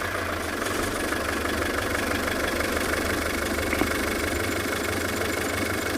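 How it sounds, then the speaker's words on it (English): A safari vehicle's engine idles steadily at a sunset game drive, a continuous mid-low rumble with a faint knocking pulse, close and constant with no talking. "It is said they like the sound of the vehicle."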